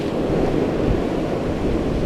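Andaman Sea waves crash steadily against a rocky shore, a loud, continuous roar of surf mixed with wind buffeting the microphone.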